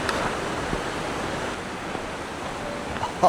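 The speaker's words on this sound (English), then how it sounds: "let's go see the falls from down here" The waterfall at Fish Creek gives a steady, broad rush of falling water, heard as a constant roar from nearby with no voices over it.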